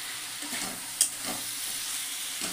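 Boiled potatoes go into hot oil tempered with white cumin seeds and chili, giving off a steady, close sizzle and hiss. One short clatter from stirring lands about a second in.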